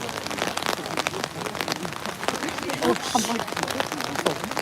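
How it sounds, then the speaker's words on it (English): Steady rain falls outdoors during a charity awareness walk, a dense patter of drops on surfaces lasting throughout, with people talking nearby. "It's raining."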